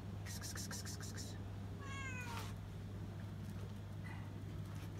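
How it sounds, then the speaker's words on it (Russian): Siamese cats meowing on a tropical island, a few faint, distant meows in a short burst, under a steady low background hum, with no talking. "здесь живут еще две кошки"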